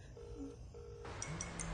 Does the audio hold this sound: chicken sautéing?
no